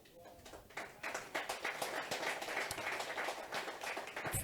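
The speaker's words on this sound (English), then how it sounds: "Thank you for clapping." Audience clapping hands at a business talk event, a scattered start that swells into steady applause from a modest crowd, with some faint background voices mixed in.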